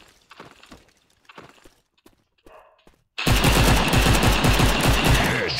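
AK5 rifle firing in the FPS game Maskgun: after a few faint soft clicks and a near-silent stretch, a loud, close, sustained automatic burst of rapid, evenly spaced shots runs to the end.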